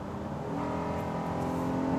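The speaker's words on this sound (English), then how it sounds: "when you bury the throttle, let's say to pass slower traffic, you can take a beat before the downshift arrives" A 2018 Honda Odyssey minivan with a 10-speed automatic accelerating hard at full throttle, its engine note a steady, rising hum heard from inside the cabin, smooth and moderately loud with no talk.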